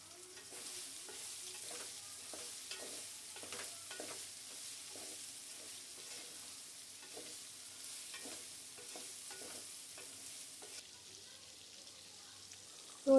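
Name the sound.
frying soya chunks in oil in a vessel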